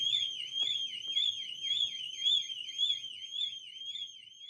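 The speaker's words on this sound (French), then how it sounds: "l'alarme et la sirène est en train de sonner." A Somfy home intrusion alarm siren wails with a steady, warbling electronic tone, repeating up and down in quick cycles at moderate level, with faint background sounds beneath it.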